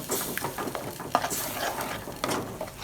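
Milk-based white sauce being stirred in a pan over a low simmer, with soft scraping strokes and faint bubbling from close by, some light clinks of the spoon against the pan, and no voices.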